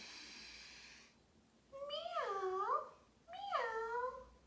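Two drawn-out meows voiced by a person imitating a cat, one after another, after a short stretch of quiet.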